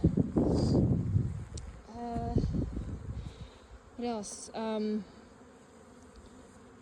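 Honey bees buzz steadily around hives in an apiary while a person speaks briefly nearby, with a few louder droning passes rising and falling.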